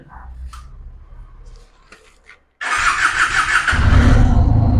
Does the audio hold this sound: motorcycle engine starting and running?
yes